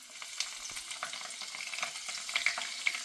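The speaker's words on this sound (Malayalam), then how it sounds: "അതിലേക്ക് കറിവേപ്പില ഇട്ട് കൊടുക്കുകയാണ്." Curry leaves drop into hot oil in a pan for chicken kadai, crackling and spitting in a busy, close, continuous fry with sharp pops scattered throughout.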